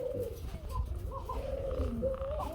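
A Danish Koka pigeon coos in low, rolling, continuous calls that sound close and clear, with no talk over them.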